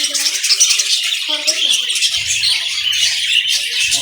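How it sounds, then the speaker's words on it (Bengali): A crowd of small birds kept in an indoor bird house, including albino red-eyes, chirps and tweets busily and close by, with someone talking over the chatter. "এখানে অনেক পাখি।"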